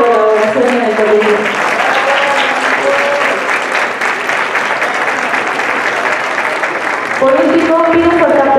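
Audience applause fills a school's 50th anniversary ceremony, a loud, sustained wash of clapping running almost the whole time, with voices heard near the start and again at the end.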